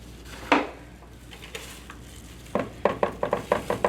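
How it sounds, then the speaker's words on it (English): Dry mix for a s'mores pizza is added to a bowl and stirred, with a single clack and then a quick series of scraping, tapping utensil strokes against the dish, close and fairly quiet. "Now I'm going to add my dry mix"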